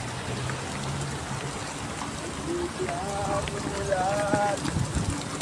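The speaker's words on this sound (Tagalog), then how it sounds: "nalakis ng ulan" Heavy rain pours down steadily outdoors with no shelter nearby, a dense wash of noise throughout, while people talk and laugh over it close by.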